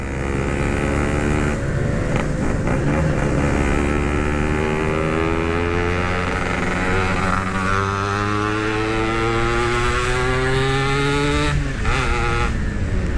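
A restored Yamaha RX King two-stroke motorcycle accelerates hard, its engine note climbing through rising sweeps, dropping briefly between gear changes and pulling again, loud and close with no talking.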